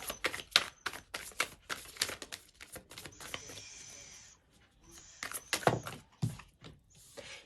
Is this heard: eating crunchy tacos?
no